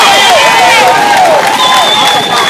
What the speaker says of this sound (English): let's give a round of applause for Congressman John Lewis